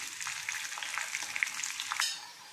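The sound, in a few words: chopped spinach frying in hot oil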